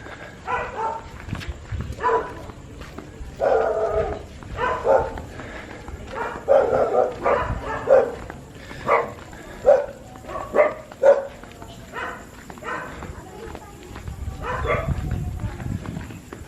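Dogs bark repeatedly at night on a town road in Alaminos City, a run of sharp, mid-distance bursts at an uneven rhythm, with low rumble and footsteps beneath and a swelling wash of noise near the end.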